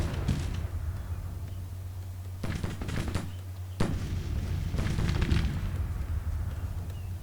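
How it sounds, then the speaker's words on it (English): Artillery in a Civil War strategy video game fires as several heavy booms at irregular intervals, each ending in a rumbling tail over a low, steady background drone. "Lane might have a rough time of it from that artillery."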